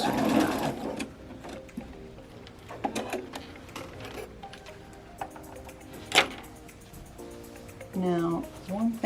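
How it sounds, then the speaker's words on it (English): A sewing machine stitches across a fabric bag in short bursts of rapid mechanical whirring, with pauses between runs and quiet handling noises, moderately close. "I'm going to sew take the pins out and go across again."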